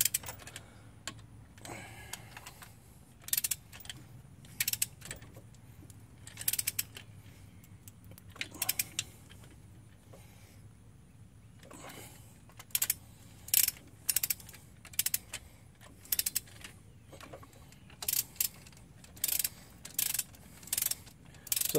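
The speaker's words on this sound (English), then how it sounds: "just start torquing these down. Just kind of go from corner to corner." Bolts being torqued down with a ratchet during an engine replacement on a Chrysler Town & Country or Dodge Caravan, close repeated bursts of quick clicking separated by pauses, over a low background hum.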